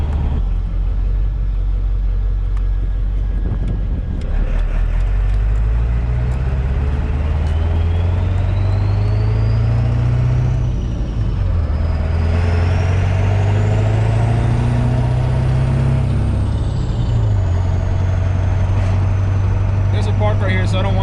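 A pickup truck's engine runs steadily while driving, a loud continuous low rumble that rises and falls as it accelerates and eases off, with a whining tone sweeping up and down above it.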